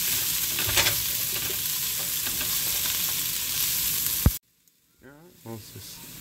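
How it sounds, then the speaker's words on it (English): Vegetables for fried rice sizzle and hiss in a hot pan as they are stirred, a steady frying crackle with a clack of a utensil, then a sudden cutoff followed by brief speech. "And just keep stirring until they're nice and soft."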